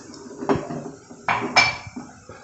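A metal cooking pot clanks and scrapes as it is handled while preparing a steamed banana cake, with a few sharp metallic knocks and clinks close by and brief sloshing between them.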